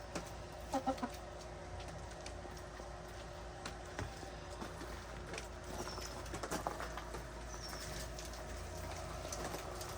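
Chickens cluck softly while pecking at dropped feed among painted rocks on a rainy day, with low scattered clucks and a few brief louder calls over a constant background hiss.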